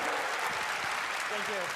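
Audience applause at a live Gran Turismo World Series esports event in Fukuoka, a steady wash of clapping held throughout, with a voice speaking faintly underneath near the end.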